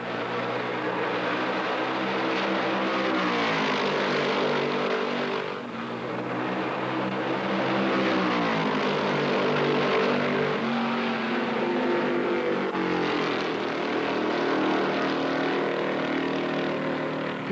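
Ford stock cars with high-performance engines race at Darlington in the 1968 Southern 500, a steady, distant roar with rising and falling pitch as cars pass, faint and continuous throughout.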